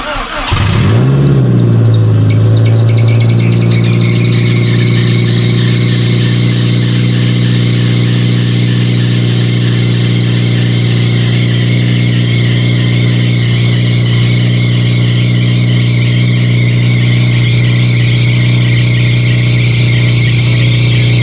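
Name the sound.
car engine being started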